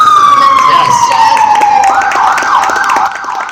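A loud siren wails downward in one long sweep, then switches to a rapid yelp pattern, close by and dominant over faint background noise.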